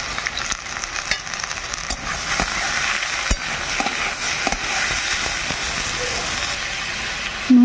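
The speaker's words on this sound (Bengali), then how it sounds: "চাল কুমড়ো রান্নাটা বসিয়ে দিলাম।" Ash gourd with small shrimp frying in a pan gives a steady loud sizzle and hiss that runs throughout, with scattered crackles and pops and occasional stirring scrapes, and a brief tonal clatter right at the end.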